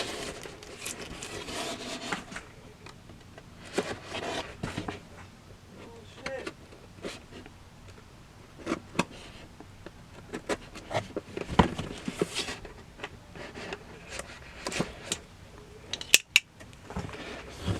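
Scissors or a blade slicing through tape on a Turtle Beach Recon controller box, close and quiet, with intermittent snips, scrapes and cardboard rustles in short bursts.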